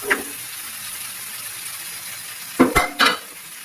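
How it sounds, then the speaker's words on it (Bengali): A gravy for pangas fish curry simmers with a low hiss under steady background noise, then two or three quick scraping strokes near the end as the onion masala is stirred in the pan. "দিয়ে হালকা নাড়াচাড়া করবো পেঁয়াজের যে মশলাটা এটা একটু মিশে যাবে ওর সাথে"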